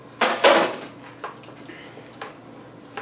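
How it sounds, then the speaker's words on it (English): Sauteed vegetables being stirred into marinara sauce in a pot with a spoon: two loud clattering scrapes of spoon against the pot at the start, then softer intermittent clinks and wet stirring. "Give them a good stir, get everything mixed in really good."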